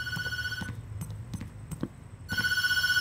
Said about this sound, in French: on va laisser le téléphone sonner alors.